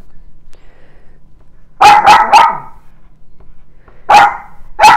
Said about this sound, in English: My dog really wants to be part of this video, so she's letting you know